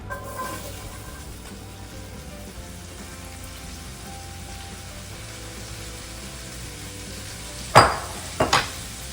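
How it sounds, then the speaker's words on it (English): Continuous crackling sizzle of succotash vegetables with summer squash frying in a hot pan, steady and fairly close, with a few sharp scraping clatters near the end. "Do I hear a sizzle? Yeah, I hear a sizzle."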